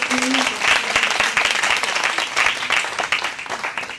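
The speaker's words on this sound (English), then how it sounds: "facciamo un applauso, un round of applause" Audience applause at a circular-economy forum as a designer is welcomed onto the stage, a dense, steady wash of clapping lasting throughout, with a voice briefly audible over it near the start.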